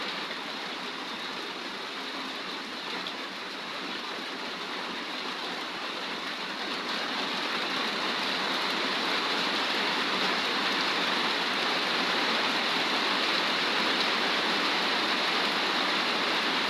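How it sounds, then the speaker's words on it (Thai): Steady rain falls outdoors beyond a house in Laos or Thailand, a dense, even hiss that holds for the whole stretch and swells slightly louder partway through, with no voices over it. "น้องๆฝนตกพี่น้องข้างนอกฝนตก"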